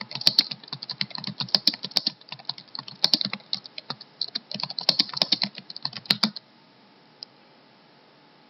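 Rapid computer keyboard typing in bursts of clicky keystrokes for about six seconds, then near silence with a single faint tap; close and fairly clear, no voices.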